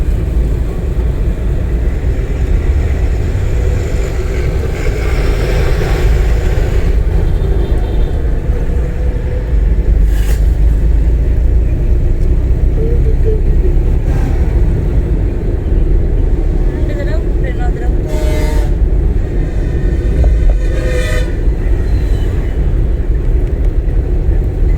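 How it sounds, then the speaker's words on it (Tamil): Car interior during a driving lesson, a steady loud engine rumble and road noise throughout as the vehicle pulls away and drives on, with a few faint voices and small clicks over the drone. "எக்ஸைட் கொடுத்து வண்டி போவோம்"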